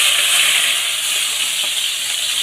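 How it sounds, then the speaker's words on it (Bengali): Chopped garlic frying in hot oil alongside dried chillies, bay leaf and cumin, producing a loud, close, continuous sizzle with an even hiss throughout and no talking. "রসুনটা একটু ভেজে নিচ্ছি সুন্দর করে"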